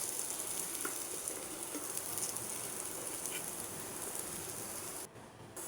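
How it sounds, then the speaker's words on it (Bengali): Lentil fritters (dal bora) fry in hot oil with a continuous soft, crackling sizzle, fairly quiet and steady, dipping briefly near the end. "সবগুলো ঘোরানো হয়ে গেলে আবারও ধীরে ধীরে করে ভেজে নেব।"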